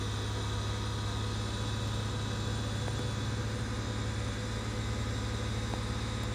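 Honda Odyssey engine held steady at about 2,000 RPM, a constant even drone with a strong low hum and a broad noisy wash that never changes in level.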